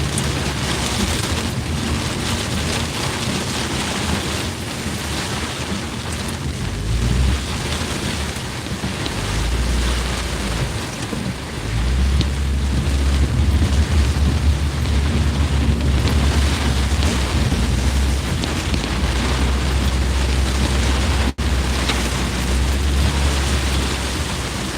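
Heavy, torrential rain pours down steadily on a car driving through Upper Darby, a dense loud roar with deep engine and road rumble underneath.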